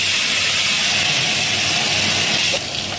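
Potatoes and onion frying in a pan give off a loud, continuous sizzle and hiss that eases slightly just before the end.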